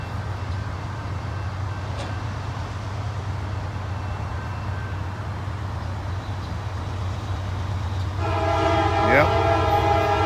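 A locomotive horn blares loudly near the end, over the steady rumble of a passing train at a rail line toward Sharonville Yard, after several seconds of low engine and wheel noise.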